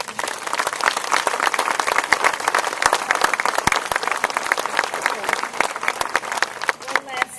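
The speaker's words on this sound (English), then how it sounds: "One last round of applause then for all those people who are first responders" A crowd applauds continuously for first responders at a 9/11 ten-year remembrance at the All Wars Memorial, Oak Hill Park, Danville, California, with dense, steady clapping that stays loud throughout.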